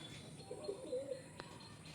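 Pigeons kept for sale at a bird market cooing softly, a few low throaty coos in the middle of a quiet stretch under faint background hum and distant noise.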